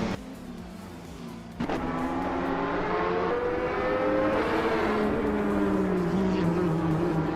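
A 2015 Oreca 05 LMP2 race car drives Laguna Seca in a racing video game, its engine droning steadily and loudly as pitch rises and falls through gear changes, with no talk.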